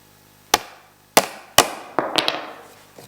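Sharp hammer strikes drive knurled aluminum nuts into snowmobile skis, a Ski-Doo Rev 800 sled getting SLP Mohawk skis, struck with a hard hammer in place of a rubber mallet: three separate loud blows, then a quicker cluster of lighter taps, no talking.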